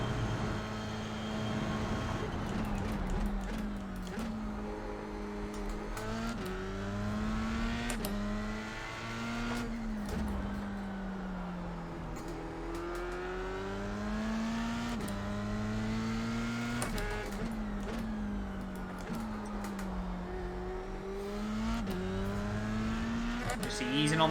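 Engine of an F3 single-seater on Circuit of the Americas in iRacing, rising and falling steadily through gear changes as the car accelerates and eases off, a continuous droning whine heard throughout with talk over it.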